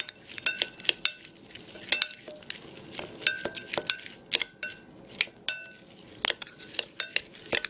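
Pellets and oats being mixed with a utensil in a container, a quiet run of irregular clinks, scrapes and taps close by, with no talking.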